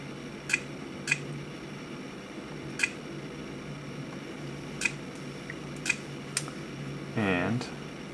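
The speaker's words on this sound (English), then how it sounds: "I'm just typing randomly using the little on-screen keypad on my iOS device into the CNN search bar." Typing on an iPhone's on-screen keypad produces sharp, isolated clicks, about seven spaced irregularly over several seconds, fairly close, with a brief whirring tone near the end.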